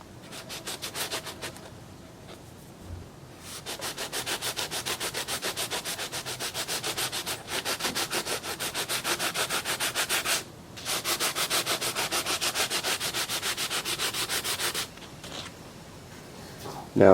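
An Oster 76 hair clipper is hand-sanded with micro mesh abrasive pads, producing fast, steady rhythmic rubbing strokes in long, loud runs with brief pauses between them.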